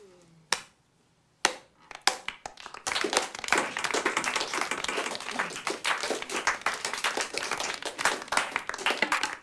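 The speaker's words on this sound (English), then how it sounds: "let's give Mrs. Moretto our thanks and a round of applause" A group gives a round of applause: a few scattered claps first, then dense, sustained clapping swelling in from a few seconds in and holding steady to the end.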